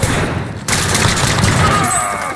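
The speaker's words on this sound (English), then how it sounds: "Taking fire here." Dense, sustained gunfire in the video game Call of Duty Warzone, a loud continuous barrage of shots with booming impacts that intensifies after a brief moment, filling the whole stretch without speech.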